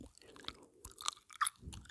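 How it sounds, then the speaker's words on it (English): Close, quiet gum chewing during a whispered storytime, with moist clicks, smacks and soft crunchy mouth sounds in an irregular rhythm and no talking over them. "So there will be some gum chewing and mouth sounds."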